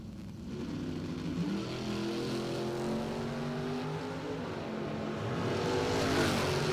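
Drag racing cars, a Chevy Nova and a Chevrolet S10, roaring on the strip at a doorslammer event, with layered engine tones that climb and shift pitch and a louder surge near the end.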